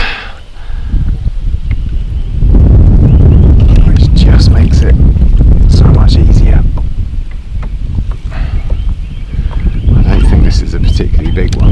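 Strong wind buffeting the microphone on a boat out on Lake Manchester while fishing, loud continuous roaring gusts that swell and ease, with people talking throughout.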